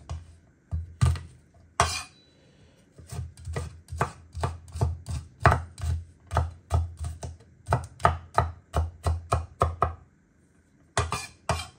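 A knife chops food on a cutting board for a spicy chicken gheymeh stew, dozens of sharp, even knocks in quick runs with brief pauses, close and loud, no talking.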